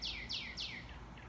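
Small birds chirp on a back patio in the morning, three clear descending tweets in quick succession followed by a couple of fainter calls, over a soft outdoor background hum.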